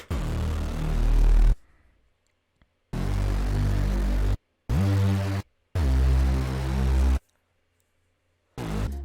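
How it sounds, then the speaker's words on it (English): A fuzzy, distorted 808 bass from a Serum synth preset plays in several loud sustained bursts separated by short silences, heavy low end with gritty harmonic buzz, no voices. "It's just a really fuzzy 808"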